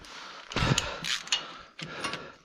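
A 24 mm socket wrench turning bolts on an Ursus C330 tractor: close metallic ratcheting and clicking in a few short bursts, with creaking between strokes and no talk.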